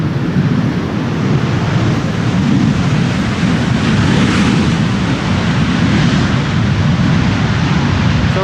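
A Transavia airliner arriving from Ibiza lands at Amsterdam Schiphol, its thrust reversers producing a loud, sustained, broad roar that swells slightly midway, with wind buffeting the microphone throughout.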